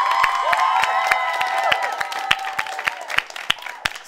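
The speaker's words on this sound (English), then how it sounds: "could you please give your parents a huge round of applause" Audience applause and cheering for the parents at a school performing arts show, with sparse, separate claps over a sustained musical tone that thin out toward the end.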